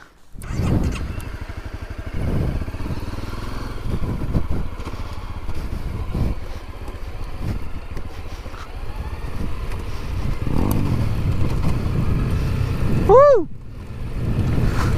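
A dirt bike rides off-road on rough hill terrain, its engine droning and revving unevenly under wind buffeting throughout, with a rising whine near the end.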